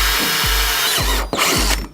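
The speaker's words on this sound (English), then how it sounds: "drill these holes right here that we see, and stick bolts in through it" A power drill bores holes through a metal bumper bracket on a racing kart, loud and continuous up close, with grinding and ratcheting bites as the bit cuts and a quick stop at the end.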